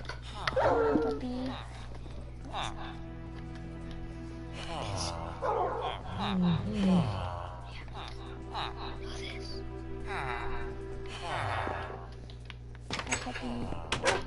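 A dog in the Minecraft video game barks and whimpers in short yips scattered through the clip, mixed with game sounds and continuous talking from players.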